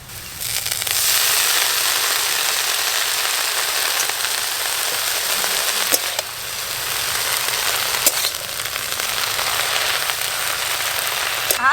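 Chopped greens sizzle in a pan after onion and garlic have browned, a loud steady crackling fry like heavy rain that runs without a break, close to the pan, with no voices.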